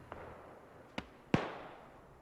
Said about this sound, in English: large explosions or just thermobaric grenade